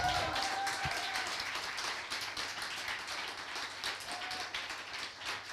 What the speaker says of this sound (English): So I would like to give a big applause to these guys here